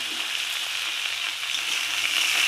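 Spring onion, tomato and green chilies frying in a pan over a high flame, a steady close crackling sizzle with no other sound.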